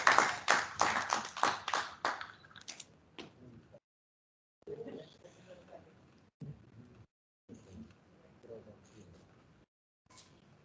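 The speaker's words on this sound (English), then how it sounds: "Let's give them a round of applause." An audience at an annual exporter awards ceremony in Eswatini breaks into a burst of clapping that fades within a few seconds, followed by quieter scattered sounds and gaps.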